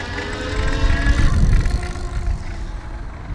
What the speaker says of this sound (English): I can definitely hear the motor more